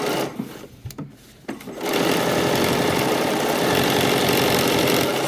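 A sewing machine stitches and backstitches a pocket seam on a cotton wrap dress. A few soft handling clicks come first, then a loud steady motor hum with rapid needle chatter runs to the end.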